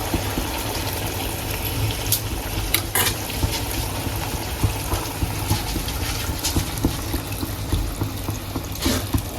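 Water added to a pan of frying boomla (Bombay duck) fish makes a continuous, loud gushing and sizzling wash with scattered pops and clicks throughout, no voices heard.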